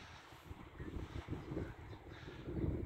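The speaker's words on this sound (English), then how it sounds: "a little bit of wind" Light wind blows by the old pier at Criccieth on a March day, a faint, steady low rumble with gentle gusting swells and no voices.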